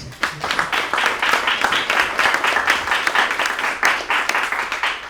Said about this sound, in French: Applaudissez-le aussi, s'il vous plaît.